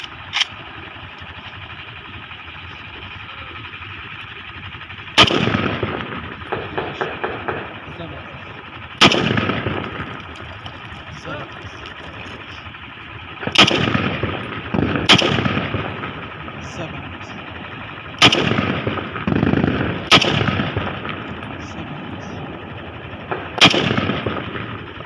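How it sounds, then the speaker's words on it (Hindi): A Pakistani-made semi-automatic rifle is test fired outdoors, seven loud sharp single shots spaced a few seconds apart, each ringing out with echoing decay over a steady background hum. "ये सेमी ऑटोमेटिक रैपल है, सेमी, ठीक है। दोस्तों अब इस पर टेस्ट फायर करेंगे"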